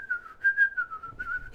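A person whistles a short, wavering run of notes, clear and close, with nothing else underneath.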